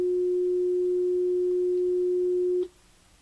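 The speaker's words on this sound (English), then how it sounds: "We can hear the tone and see the trace." A steady pure test tone injected into a transistor of a differential amplifier hums evenly and alone for over two seconds, then stops abruptly, leaving only faint background noise.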